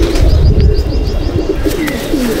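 Pigeons coo in a pigeon loft, a steady low warble repeating through the clip with faint chirps and a brief wing flutter, close and fairly loud against a busy background.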